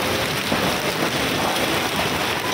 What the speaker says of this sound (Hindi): ओले भी मोटे मोटे पड़ रहे हैं